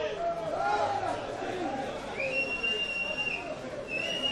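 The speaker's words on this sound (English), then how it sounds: "Home fans, the whistles have started." Home football fans whistle in a stadium during a match, shrill sustained whistles rising over a crowd murmur, with a commentator talking over the noise.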